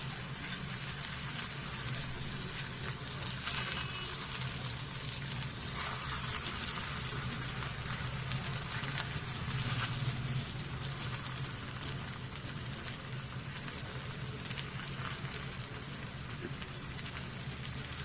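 Ragi and spring onion thalipeeth frying in a little oil on a pan, a steady close sizzle and crackle that holds evenly throughout with no talk.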